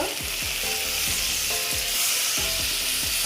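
Bitter gourd and potato fry in a pan as water is added, giving a loud, continuous sizzle with repeated scraping stirs near the microphone.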